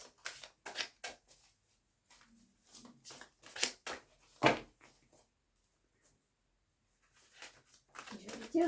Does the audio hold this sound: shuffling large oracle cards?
yes